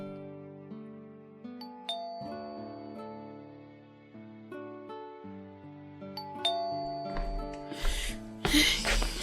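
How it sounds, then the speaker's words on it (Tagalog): A house doorbell rings with several sustained, bell-like chime tones layered over each other. A brief burst of noise follows at the end. "Makapag-doorbell nga."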